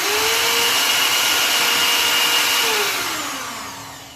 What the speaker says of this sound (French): Je perce la pièce.